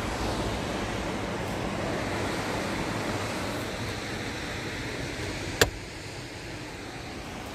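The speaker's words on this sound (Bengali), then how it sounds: "হাওয়া দিয়েছে।" Wind gusts near the Beas river give a broad steady rushing roar that may blend with flowing water, loud and unbroken, with a single sharp click partway through and no talking.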